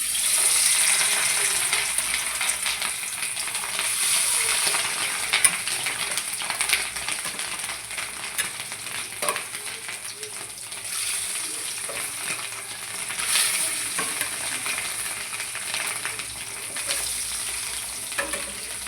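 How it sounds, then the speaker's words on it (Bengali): Fish roe frying in oil in a kadai, a steady close sizzle with crackling pops throughout, no voices. "প্রথমে আমি ডিমটা ভাজা করে নিচ্ছি কড়াইতে"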